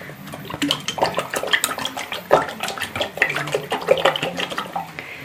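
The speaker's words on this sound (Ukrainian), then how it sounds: "будемо у миску виливати це яйце" Clatter and scraping of a raw ostrich egg being poured from its shell into a bowl, with repeated knocks and clinks of shell against the dish, close and busy throughout.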